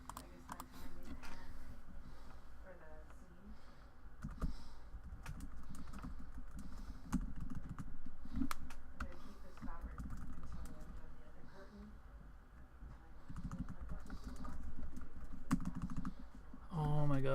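Typing on a computer keyboard during an online card game, with quick, uneven clicks and clacks running steadily close to the mic while people talk and a bird coos faintly in the background.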